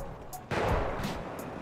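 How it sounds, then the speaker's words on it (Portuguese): Gunfire in the game GTA V during a gang war, a burst of shots starting midway and carrying on at fairly loud, steady level after a quieter start. "Quem tá trocando tiro aqui, mano?"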